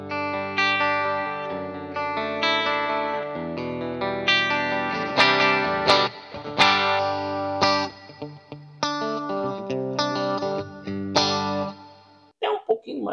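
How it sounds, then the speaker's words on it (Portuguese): An electric guitar played through a Cuvave Cube Baby set to a Vox AC30 amp and cabinet sound: chords and riffs with a driven, chorus-tinged tone, loud and close, ending in a brief gap before a final strum. "O primeiro som é um som de Vox AC30. Eu vou colocar minha caixa Vox AC30."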